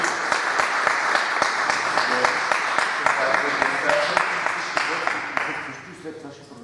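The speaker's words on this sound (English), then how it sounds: "A round of applause for Ian" An audience at a talk on ethnic science fiction breaks into sustained applause, dense clapping that holds steady before tapering off near the end.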